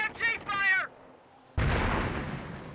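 A mortar round booms in Company of Heroes, a sudden heavy thud with a rumbling tail that follows a brief stretch of speech and a quiet pause.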